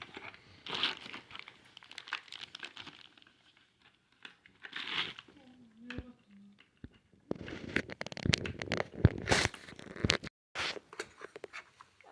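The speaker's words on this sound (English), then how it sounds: "Can you open this tape, please?" Tape being pulled and peeled off the Canon R3 battery charger package, intermittent crinkling and tearing rustles up close, with a brief voice partway through.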